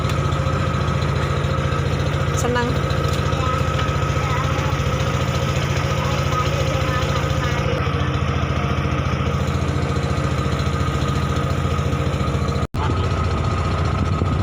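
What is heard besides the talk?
boat engine running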